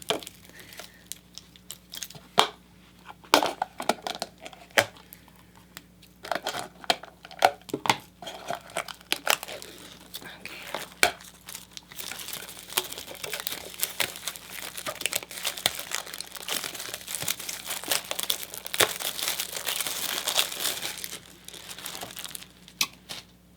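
Crinkling and tearing of packaging tape and paper, with intermittent sharp rips and rustles, close by and irregular, growing busier toward the end.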